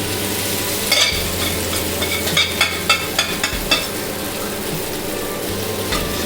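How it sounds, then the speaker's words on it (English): Mushrooms sizzle in a hot pan with curry leaves, a loud steady frying hiss broken by several quick scraping stirs, with no talking. "Let's add mushroom to this now."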